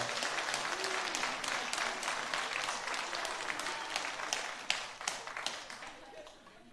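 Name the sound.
church congregation applauding the choir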